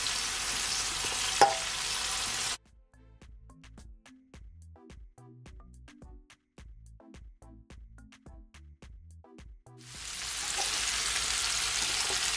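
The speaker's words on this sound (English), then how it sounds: "Give it a stir." A spoon stirs water in a cooking bowl, making a quiet, steady run of small clinks and taps. Stretches of hissing noise come before and after the stirring.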